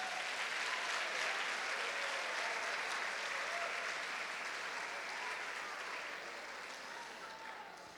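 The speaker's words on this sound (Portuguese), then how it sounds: "Bate palma para ele" A church congregation applauds together in a sustained, dense round of clapping that stays loud and steady for several seconds before tapering off slightly toward the end.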